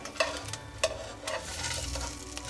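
Vegan roast sizzling as it is flipped and seared in a frying pan, with a couple of sharp clattering bumps from the turn over steady close frying, no talk.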